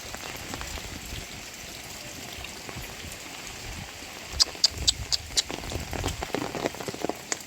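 Steady rain with strong wind patters on surfaces nearby, with a few sharper drips and splashes standing out toward the end.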